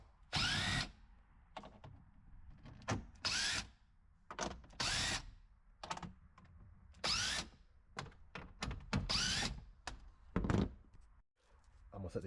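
Power tool with an 8 mm socket spinning out bolts during battery replacement on a 2014-2018 BMW X5, heard as a series of short close whirring bursts in an irregular rhythm, with someone talking between them.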